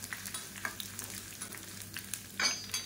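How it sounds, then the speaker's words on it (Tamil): Curry leaves frying crisply in hot oil, a soft, steady sizzling crackle with faint stirring, close but fairly quiet and free of speech. "இது வந்து நல்லா அப்படியே முறுமுறுன்னு பொரிச்சு எடுத்துக்கலாம்"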